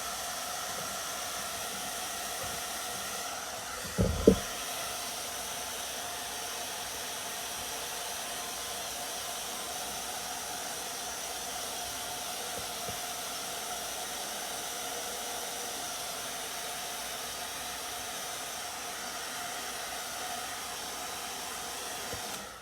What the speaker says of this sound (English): hit this bat right quick with a little bit of air from the blow dryer